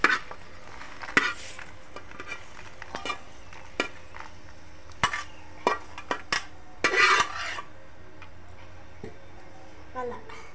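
Fried dried red chillies and mint for a chutney are moved from a pan into a stone mortar, producing intermittent scrapes, clinks and clatters over a faint sizzle.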